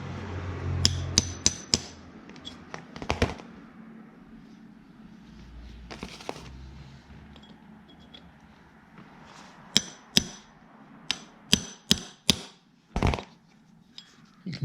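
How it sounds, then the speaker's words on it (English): A hammer strikes a metal punch, bending the outer metal casing of a starter clutch into a hole to lock it in place. Sharp, close metallic taps come in scattered groups, then a quicker run of evenly spaced blows near the end, with no talking. "So I've pushed that back into the hole again with the punch."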